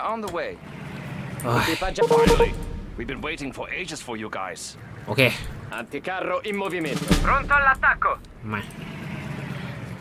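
Gunfire and artillery in Sudden Strike 4's desert war campaign boom in a couple of heavy bursts beneath someone talking excitedly almost throughout.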